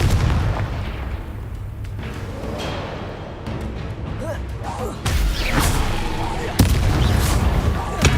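Spell blasts from Incendio and Confringo cast in Hogwarts Legacy, a fire spell and an explosive curse: a run of booming bursts and whooshes with a heavy hit near the end, over dense game noise, with a voice talking.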